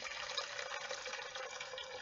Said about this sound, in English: we start by pouring hot water into your saucepan